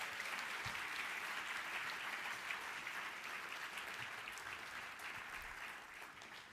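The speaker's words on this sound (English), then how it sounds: "Can we give them a round of applause?" Applause from an audience at an early-morning talk, dense sustained clapping throughout that slowly thins toward the end, with no voice over it.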